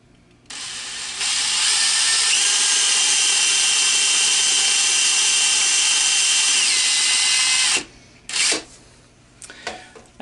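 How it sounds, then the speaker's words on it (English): Power drill boring three holes into a wooden bowl held on a woodturning lathe, a loud steady high whine lasting several seconds, then stopping abruptly, followed by a few short clunks and taps. "And that is my three holes drilled"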